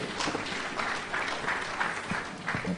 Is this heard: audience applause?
yes